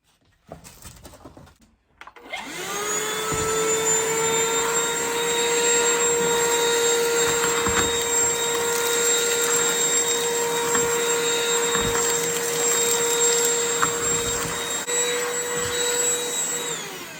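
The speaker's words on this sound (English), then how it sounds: "So now I have to go get the vacuum." A vacuum cleaner switches on after a brief quiet moment, tidying up plant cuttings, then runs with a loud, steady whine and drone that holds for the rest of the stretch with no talking.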